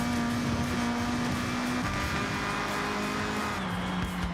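A steady, loud car engine drone in Forza Horizon 6, played with a wheel, holding high revs, with pitch shifting as gears change, continuous throughout with no talking.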